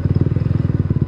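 A motorcycle engine idles close by, a rapid, even chugging pulse of low thumps that repeats steadily and loudly throughout.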